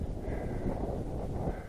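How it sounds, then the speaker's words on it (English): Strong wind on an exposed moorland hilltop at Kinder Downfall buffets the microphone, a steady low roar and rumble with gusty fluctuations, no voices. "so we're extremely windy"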